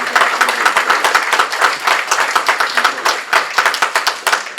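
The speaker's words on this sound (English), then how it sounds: "I'd appreciate giving them a round of applause for their work in finding." An audience at a presentation bursts into a full round of steady clapping that carries on dense and even throughout.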